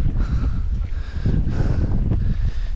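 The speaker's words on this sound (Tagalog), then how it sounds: "yung bayo ng hangin hindi kaya ng ating tent" Strong wind on a Nueva Vizcaya mountain buffets the microphone in heavy, continuous gusts, roaring and rumbling loudly throughout with no voices.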